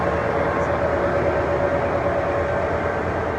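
A Siemens locomotive pulls away on a train departure, giving a loud, steady rail rumble with a faint tonal hum that holds unbroken from start to finish, with no voices.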